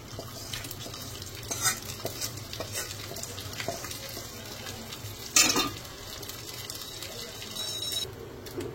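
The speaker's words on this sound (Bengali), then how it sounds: "চালটা এখন একেবারে হাঁড়ির মধ্যে দিয়ে একটু ভাজা ভাজা করে নেব" Dehradun rice for pulao frying with a spice tempering in a pot gives a steady, soft sizzling hiss, with stirring scrapes and a sharper burst partway through.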